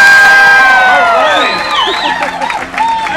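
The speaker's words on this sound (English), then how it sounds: "One more round of applause for everyone" A crowd cheers and applauds for contestants in a competition, a loud swell of shouts, whoops and clapping with high excited voices rising over the roar, holding strong then easing slightly.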